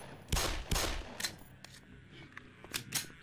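Several sharp gunshots crack in quick succession, two louder ones first, then a scattering of lighter shots, all with a synthetic video-game quality, from the game Black Mesa.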